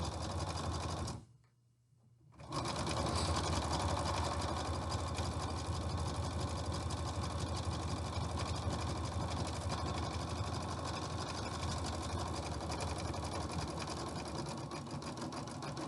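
A sewing machine zigzag-stitches along the neck edge of an isolation gown, running in a steady, rapid mechanical chatter, stopping briefly near the start and then running nonstop.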